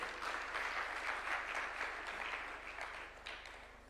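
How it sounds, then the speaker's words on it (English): An audience at a bill signing ceremony in Kenya breaks into sustained applause, a dense, steady wash of clapping heard from a distance that gradually fades toward the end. "A round of applause for Mzee."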